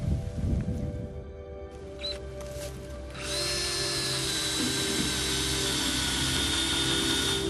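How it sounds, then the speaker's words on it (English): A power drill bores a tap hole into a tree trunk for collecting sap, a steady high whine that starts after a few seconds of handling noise and runs continuously and loudly to the end. "I can see now why you use the drill."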